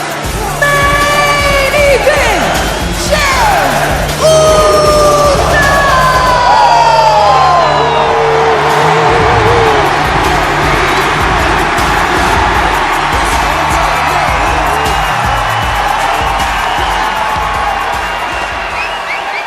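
A packed arena crowd roars and cheers during a WWE 2K25 wrestling video game Elimination Chamber show. The din is loud and continuous, with rising whistle-like tones over the dense noise early on.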